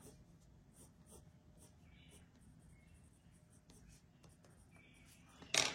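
Colored pencil scratches softly across paper in short, faint strokes against a quiet room, ending with a brief louder rustle.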